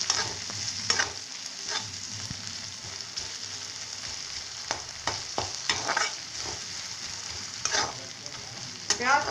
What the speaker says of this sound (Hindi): लहसुन डालेंगे, हरी मिर्ची डालेंगे। थोड़ी देर तक भून लेंगे मध्यम आंच में।